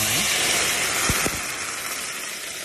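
Red wine hits a pan of softened onion and garlic in olive oil and sizzles hard. A loud, steady hiss fills the clip and eases slightly toward the end.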